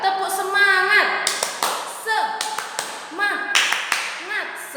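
Schoolchildren in a classroom perform a rhythmic clapping chant, tepuk semangat, shouting words in unison between bursts of clapped beats that come in short grouped patterns.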